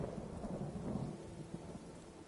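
Rain with a low rumble of thunder in the video game Skyrim, a steady wash of rainfall under a brief rolling rumble, fairly faint, with no talk.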